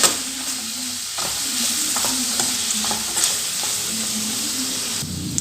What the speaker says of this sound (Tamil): இதெல்லாம் நல்லா மிக்ஸ் பண்ணிக்கலாங்க.